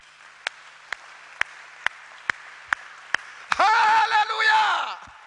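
A church congregation in a solemn worship gathering claps in a steady rhythm of about eight sharp, evenly spaced claps, then breaks into loud, sustained cheering and shouting that fills the room.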